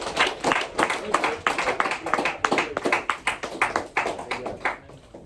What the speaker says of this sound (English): Let's clap for him above the table.